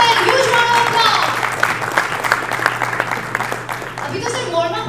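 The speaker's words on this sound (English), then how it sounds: "Ladies and gentlemen, huge round of applause." Crowd applause at a blockchain summit in Gujarat for a company founder, many hands clapping under an amplified announcer's voice and background music, the clapping fairly loud and continuous before easing slightly toward the end.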